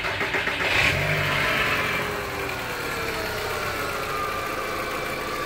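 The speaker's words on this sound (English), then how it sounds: "So that clicking, and I'll start the car now, has its own duty cycle" A Volkswagen Golf TSI engine starts and settles into a smooth steady idle, heard close up with a brief rise in revs at the start and no talking.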